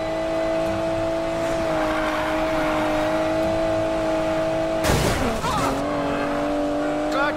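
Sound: car accelerating in Need for Speed Payback video game

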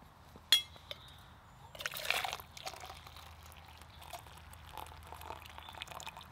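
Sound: coffee being poured into a cup

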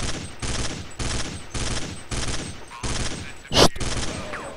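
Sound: gunfire in a video game shooter

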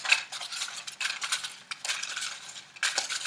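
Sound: stirring name slips in a container

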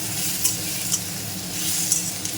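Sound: onion and spices being sautéed in a pan

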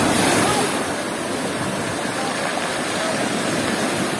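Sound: storm waves at Blue Bay, Gelendzhik

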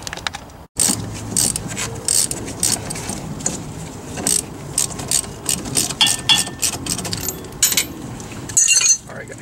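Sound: ratchet wrench disconnecting Foxbody Mustang sway bar link

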